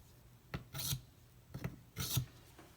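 A knife blade scraped across a HAIDU silicon carbide sharpening stone of about 90 grit, with three close, raspy strokes at an uneven pace and short pauses between them.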